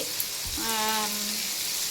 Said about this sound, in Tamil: அப்புறம் வெங்காயம் போட்டாச்சு, போட்டு வதக்கிட்டு இருக்கேன்.